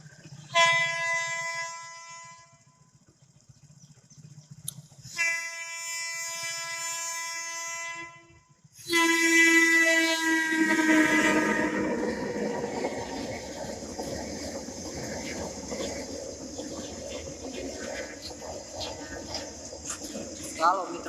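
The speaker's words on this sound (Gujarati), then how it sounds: "જો મિત્રો, આમથી રેલગાડી આવી રહી છે" Train pulling in on the railway tracks near a trackside temple: repeated loud horn blasts, then a rolling, rumbling roar of wagons passing close by. People talk at times.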